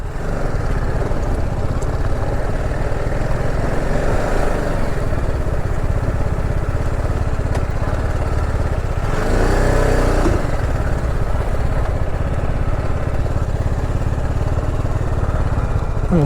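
Scooters ride past near the entrance to Aguada Fort in Goa, their small engines producing a continuous loud drone, with one louder pass swelling briefly in the middle amid steady traffic.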